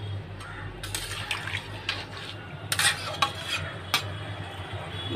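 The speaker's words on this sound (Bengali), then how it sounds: "এবার আমি এতে পরিমাণ মতন দিয়ে দেবো জল।" Water is poured into a cooking pot holding a paneer mixture, with faint splashing over a low kitchen hum, then several sharp metallic clanks and scrapes of utensils against the pot.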